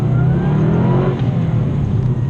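Subaru Impreza WRX flat-four engine with a Pro Drive back-box exhaust, idling and revving in a steady, loud, close rumble with no talking.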